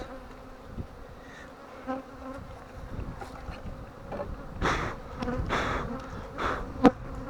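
Dense buzzing of many honey bees close by at a hive frame during the linden honey flow, drawn by spilled honey, a continuous droning hum with occasional rustles and knocks, no speech.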